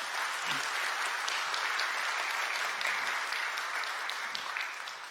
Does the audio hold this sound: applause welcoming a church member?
yes